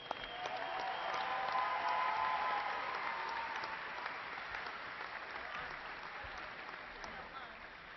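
Steady audience applause for graduates at a spring university commencement, a sustained wash of many hands clapping that swells early and slowly tapers, with faint voices murmuring beneath.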